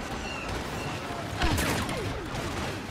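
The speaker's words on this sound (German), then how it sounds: "Hier explodiert alles und ich weiß nicht was." Gunfire and explosions in the Star Wars Battlefront video game, with a steady rumble of blasts and a sharper burst of shots near the midpoint, all fairly faint.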